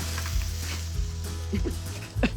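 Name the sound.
spicy sausage frying in a skillet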